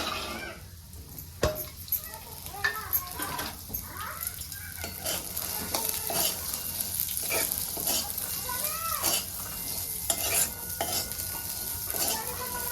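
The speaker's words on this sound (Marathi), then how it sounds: "तर आता हे आमटी करण्यासाठी अगोदर बी भाजून घेऊया थोडंसं तेल ओतलेलं आहे" Pigeon pea seeds roasting and being stirred in a little oil in a pan, a steady sizzle with repeated scraping and clinking strokes of the spoon throughout.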